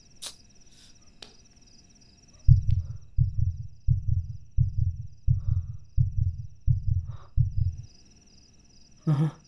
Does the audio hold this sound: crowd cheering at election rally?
no